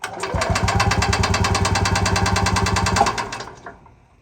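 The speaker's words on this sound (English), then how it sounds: "the way these work, you push the accelerator pedal to get it to crank, so we go all the way down" An EZ-GO golf cart's small engine cranks at wide open throttle for a compression test, with a steady rapid chugging rhythm for about three seconds that then winds down and stops. The sound is loud and close, and no one speaks.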